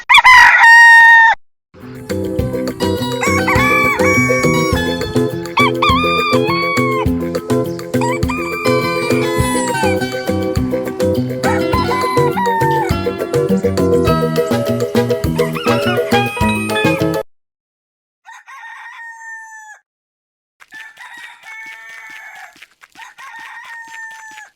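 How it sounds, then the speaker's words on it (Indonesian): A rooster crows loudly several times in a row, each long call standing alone, with a short burst of a higher animal cry at the start and a few fainter clucking and crowing fragments near the end. "Ayam jantan."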